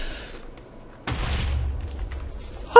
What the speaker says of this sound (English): Wow, explosions.